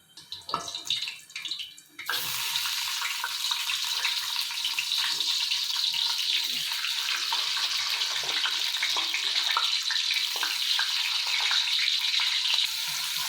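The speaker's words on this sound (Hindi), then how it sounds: "यहाँ पे हमारा घी भी गर्म है, तो बस अब इनको ना हम फ्राई करते हैं" Potato fries frying in hot ghee: a dense, steady crackling sizzle starts abruptly after a couple of seconds of quieter handling noise and runs loud and continuous to the end, with no voices.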